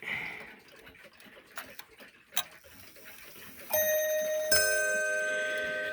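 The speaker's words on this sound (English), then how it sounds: "So I'll go ahead and make it strike to show you." A Junghans Bim-Bam hanger clock strikes its membrane gong, which works like a small built-in loudspeaker. Faint ticks and handling knocks come first, then two bright, ringing bim-bam tones swell up loud and close and decay slowly.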